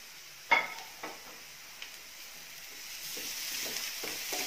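Onions sautéing in a pan with crushed ginger and garlic give a soft, low sizzle, broken by a few sharp clinks and scrapes of a spatula against the pan.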